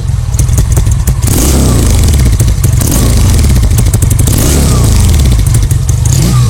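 A Honda motorcycle engine, a CD200 Road Master or H100S, runs close up and loud, idling with a rapid steady thump and mechanical clatter, briefly rising as it revs.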